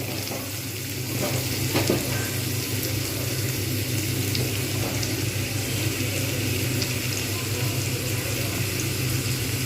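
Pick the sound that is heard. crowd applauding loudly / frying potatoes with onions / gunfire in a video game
frying potatoes with onions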